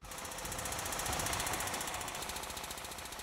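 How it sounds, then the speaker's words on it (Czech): A pneumatic drill hammers cotter pins out of the track of a Ferdinand (Panzerjäger Elefant) tank destroyer. The rapid impacts blur into a loud, steady, continuous rattle, with no voices. "Nejprve bude třeba použít vrtačku, aby z pásu dostali všechny závlačky."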